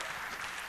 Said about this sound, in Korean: 박수 한 번 더 하겠습니다